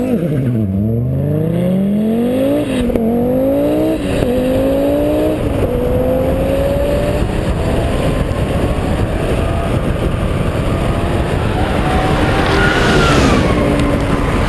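A 420-brake-horsepower Audi Group B Sport Quattro rally car and a modern Audi A1 Quattro launch into a drag race. Loud engines rev hard and climb through several gear changes, then settle into a sustained roar.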